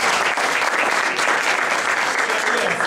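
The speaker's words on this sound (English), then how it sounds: "nice round of applause" Audience applause at a community event, a dense, loud burst of clapping that stays steady for its brief length.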